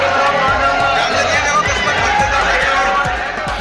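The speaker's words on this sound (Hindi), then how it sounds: "मंदिर में अपार भीड़ उमड़ी है।" A dense crowd of devotees celebrates Holi at the Banke Bihari temple, a loud continuous roar of voices and shouting with scattered thumps and movement underneath.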